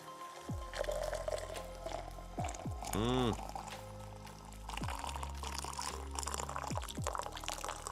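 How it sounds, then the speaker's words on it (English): Tea poured at close range, a liquid gurgle with a rising fill pitch lasting about a second, amid low background noise and faint talking. "Love a good tea pour."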